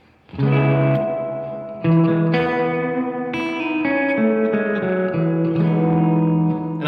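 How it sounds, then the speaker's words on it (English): An electric guitar through a Fender Tone Master amp's reverb plays sustained chords and notes with a spacious, echoing tail, each strum ringing out and blending into a wet reverberant wash. "Reverb's really low. This gets really wet really quick."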